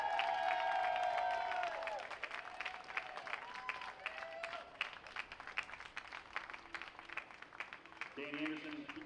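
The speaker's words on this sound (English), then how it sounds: "Everybody, a big round of applause." A trackside crowd at an Indy Pro and USF2000 race at New Jersey Motorsports Park claps and cheers for a first-time winner, scattered claps fading from a louder start, with voices talking throughout.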